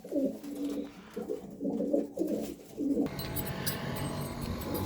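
Several pigeons coo softly in a rooftop loft, giving repeated low, throaty calls. A rustling, hissing noise then takes over near the end.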